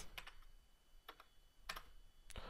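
Someone types on a computer keyboard in short bursts of crisp key clicks separated by brief pauses, close and fairly quiet.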